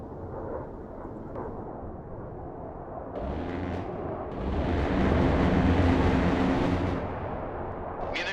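Heavy booming explosions roll in and swell into a sustained, rumbling roar before easing off, like a barrage of air-strike blasts, in the PC game Broken Arrow.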